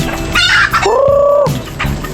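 A pet hen clucks loudly and close while laying an egg, giving a few sharp squawks and then one drawn-out, rising cackle before the clucking resumes.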